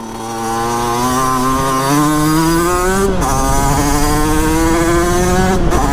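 An Italkit AM6 50cc moped engine revs hard, a loud buzzing two-stroke whine climbing steadily in pitch over several seconds with two brief dips, close and alone without speech.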